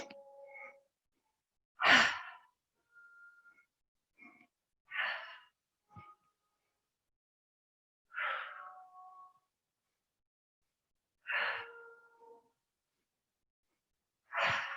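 Slow pranayama breathing during a hatha yoga class: a series of five soft, airy exhales through nose or mouth, spaced a few seconds apart with quiet gaps between, close and fairly faint, no talking.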